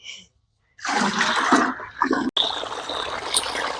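Water gushes into a farm field channel as jivamrut is fed into it, a close, steady rush and splash after a short quiet start, with one brief break midway.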